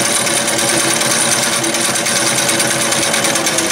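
A 1975 Singer Fashion Mate 360 sewing machine runs a zigzag stitch through four layers of cotton, producing a loud, continuous, rapid mechanical whir and clatter heard up close and alone.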